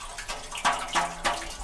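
Water gushes and splashes through a tumbling cement mixer as it washes material on a Virginia farm, with a steady rushing flow swelling in rhythmic surges as the drum turns.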